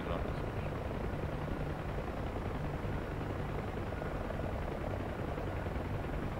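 UH-1H helicopters flying in the DCS World combat flight simulator, a steady droning rotor thump with low engine hum holding evenly throughout.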